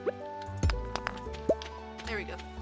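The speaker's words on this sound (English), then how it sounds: "I just want water in my watering can" Water gurgling and dripping into a watering can in the farming game Stardew Valley, a few short splashy drip sounds over steady game music with a voice talking around them.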